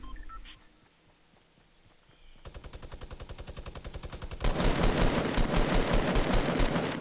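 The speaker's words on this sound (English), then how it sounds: "There's someone right here shooting minigun right in front of him." Rapid minigun fire in the Fortnite video game, starting as a fast rattling burst and swelling into a dense, louder stream of shots, with quieter game ambience before it and no talking.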